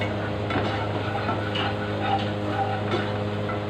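Garlic for salmon belly sinigang is stirred in a hot pan, giving a continuous soft scrape and faint sizzle with a few spoon taps over a low steady hum.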